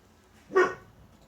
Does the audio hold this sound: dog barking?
yes